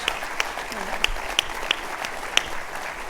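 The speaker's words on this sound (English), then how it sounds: "We can have another round of applause" Applause from the audience at an Economic Club of Indiana event with George Will and Mitch Daniels, a steady smattering of clapping with a few sharp individual claps standing out, fairly faint and distant.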